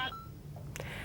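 A telephone number is dialed as a short burst of keypad tones at the start, followed by a quieter electronic blip later, over low background hum.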